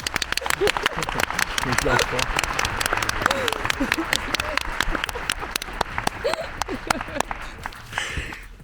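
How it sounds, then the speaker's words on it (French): Dense, sustained applause from a large audience at a Cannes film screening, loud and close, thinning slightly near the end. "On va attendre que les applaudissements finissent pour en lancer un."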